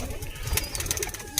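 Pigeons kept by a hobbyist fancier, heard as faint, soft cooing with a brief flutter of wings, close by and without talk.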